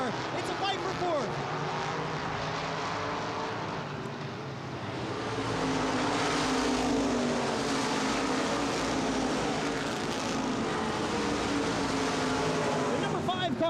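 ICAR Top Speed Modified race cars roar around Baer Field Speedway in a 2015 race, a dense, steady engine drone that swells slightly midway, with a voice talking over it.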